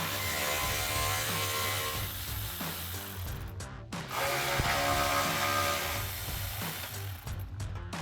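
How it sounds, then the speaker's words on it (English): A ratchet fitted with a 10mm socket works the exhaust isolator bolts on a 2021-2024 Ford F-150, giving quick close clicking strokes in several bursts against a faint background hum. "We're going to use our 10mm socket to remove those."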